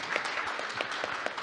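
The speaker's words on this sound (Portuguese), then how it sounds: "Uma salva de palmas para ela, eu peço, por favor." A conference audience at an international session on modern construction methods gives brief applause, a moderate patter of many hands clapping in a hall.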